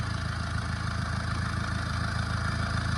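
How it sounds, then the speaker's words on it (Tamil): A Honda engine runs steadily at idle after its oil seal and plug were replaced to fix an oil leak, giving a close, even mechanical hum with a regular low pulse and light clatter, no talk. "இப்போ இந்த இன்ஜின் வந்து பார்த்திங்கன்னா ஒரு 20 minutes ஓடி இருக்குது."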